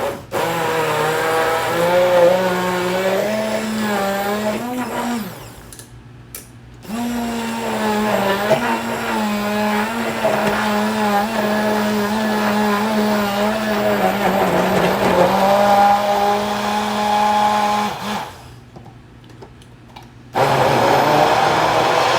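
A kitchen blender whirs loudly as it purees onion and tomato for salsa verde. The motor pitch shifts as it runs, with two brief pauses between bursts of blending.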